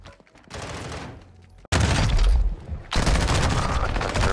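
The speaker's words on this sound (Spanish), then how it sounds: "le disparo 100 veces" Video game gunfire: bursts of rapid shots, loud and close, with a brief pause before a sustained heavy fusillade, over continuous game ambience.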